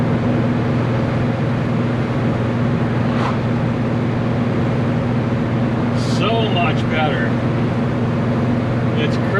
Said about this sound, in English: the car is running fantastic